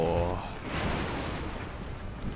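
Cannon shot striking the ship Kasuga in a Total War: Shogun 2 naval battle at Miyako Bay, a loud low boom at the start followed by a rumbling, sustained impact wash.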